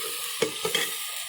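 Rice fries in a pan with freshly crushed chilies, a continuous close sizzle broken by two or three quick stirring scrapes.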